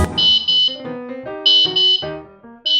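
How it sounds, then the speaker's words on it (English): An Airbolt tracker's alarm, triggered manually from a phone, sounds loud and close: repeated high electronic beeps alternating with lower stepped tones in a steady pattern. "Or you can activate the alarm manually."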